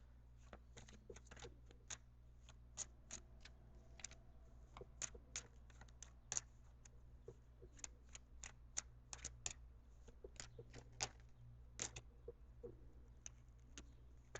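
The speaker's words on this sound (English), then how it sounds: "I'm going to shuffle the cards for a few more seconds." Tarot cards being shuffled by hand in a quiet room, a long run of crisp, irregular riffles and flicks, close and clear with a faint steady hum underneath.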